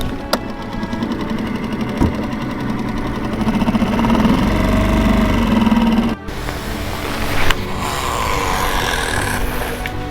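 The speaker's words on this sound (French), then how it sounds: "je vais devoir rallumer le moteur" A fishing boat's outboard engine runs steadily on a lake in Ireland, a close, continuous mechanical drone with a brief dip midway before it picks up again.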